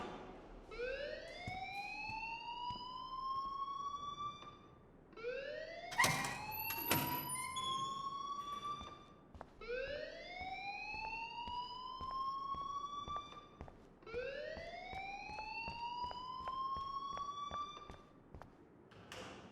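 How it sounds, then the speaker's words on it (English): Fire alarm from the Life Is Strange video game, a repeating rising electronic whoop in four even cycles, loud and steady, with a brief clattering burst midway. "please turn off that alarm since that's your job"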